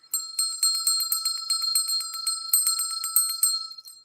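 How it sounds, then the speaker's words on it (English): A high, bright bell is struck rapidly and steadily, about two dozen clear ringing strikes over roughly four seconds with no talking. "We like to ring the bell."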